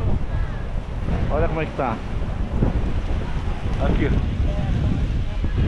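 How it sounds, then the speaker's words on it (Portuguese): Strong wind roars steadily at the beach at Barra da Tijuca, buffeting the microphone with a loud, continuous rush while someone talks over it. "Aí, muito vento, ó."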